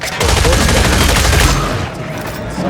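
Armor-piercing rounds fire in the Killing Floor 3 video game as a loud, dense burst of rapid gunfire, a continuous volley that tapers off near the end.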